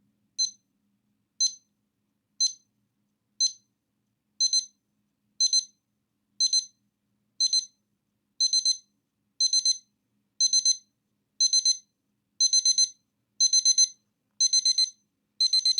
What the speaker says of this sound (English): it has a built-in alarm. The alarm's pretty decent. It's a little ding, ding, ding, beep,